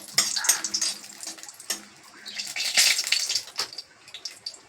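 Dried chillies dropped into hot white cooking oil in a home kitchen, making a steady, bright crackling hiss with bursts of popping, fairly close.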